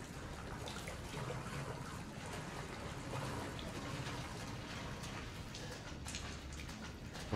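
Steady trickling and dripping water in the survival horror game Resident Evil 7, a continuous soft wash with faint ticks, lasting throughout at moderate distance with no talk over it.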